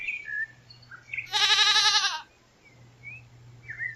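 A cartoon goat gives one clear, wavering bleat lasting under a second, loud and close, with faint chirps and a low hum before and after.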